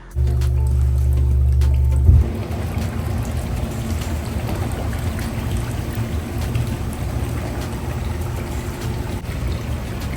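Water pours steadily into a Master Spas hot tub as it refills toward the jets, a loud splashing rush at first that settles into a constant churning flow.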